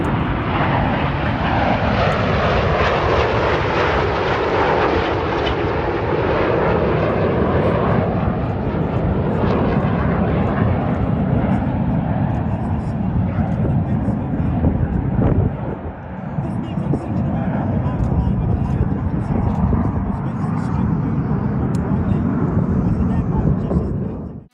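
Aerobatic display team jets fly past in formation, a loud, sustained roar that sweeps through and slowly fades, with a commentator talking over it the whole time.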